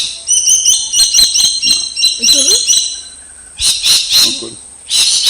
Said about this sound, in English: This, my friends, is the rainbow lorikeet, a bird which is native not to South America, but the jungles in Queensland, Australia